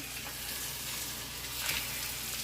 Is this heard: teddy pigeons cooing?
no